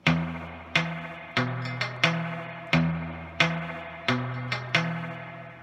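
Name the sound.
guitar lick with slide and thumb pluck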